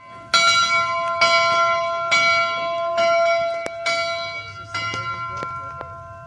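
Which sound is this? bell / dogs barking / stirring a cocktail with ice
bell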